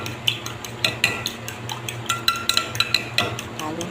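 A utensil clinks against a bowl in an irregular, quick rhythm as eggs seasoned with pepper and Magic Sarap are beaten, close and fairly clear over a faint low hum.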